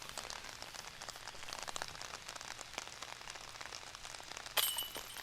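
Steady rain patters onto a golf course in a broad continuous wash of drops, with a brief sharper burst of noise near the end.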